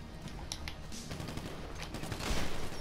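Gunfire in a mansion deathmatch video game comes as several quick sharp shots and short bursts over a low background rumble, building louder toward the end.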